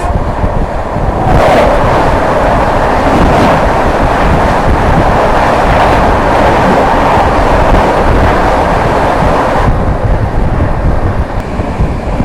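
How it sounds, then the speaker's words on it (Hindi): The Jharkhand Swarna Jayanti Express rushes past on the railway line, a loud, steady roar of wheels and wind buffeting the microphone for several seconds, then easing. "सामने से आती हुई झारखंड स्वर्ण जयंती एक्सप्रेस"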